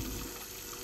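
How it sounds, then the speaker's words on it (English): Distilled water being poured into a silver refining cell to top up the electrolyte, a steady, fairly loud hissing gush of water without breaks and with no talking. "I'm going to add some distilled water also to bring the electrolyte level up."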